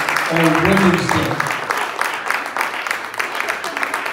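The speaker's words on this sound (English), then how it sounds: "we want to give our women an applause today as we congratulate them on Women's Day" A church congregation applauds to honor its women on Women's Day, with clapping swelling into a steady, dense patter under a brief spoken voice at the start.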